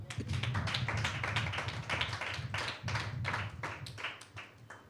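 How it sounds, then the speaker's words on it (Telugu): A church congregation claps hands together during a prayer service, a steady run of sharp, close, rhythmic claps carrying through the whole stretch with no talking over them. "చప్పట్లు కొడదాం,"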